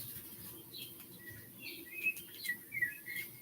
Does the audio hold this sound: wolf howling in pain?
no